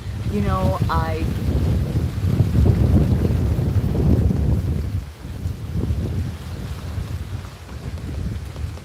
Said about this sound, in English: So you guys just hear the wind.